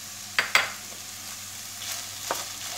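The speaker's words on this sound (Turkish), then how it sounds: "Evet, karıştırarak kavurmaya bu şekilde sırayla devam ediyoruz." Onions, garlic and peppers sautéing in a pan for chicken sauté, with a steady soft sizzle and a few sharp scraping stirs of the spoon, close and moderately loud.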